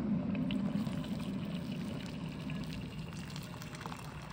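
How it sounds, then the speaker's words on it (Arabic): A steady stream of boiling water pours and gushes into a pot, close by, with a low churning hiss and no talking. "وبتحطي الميه المغليه فوق"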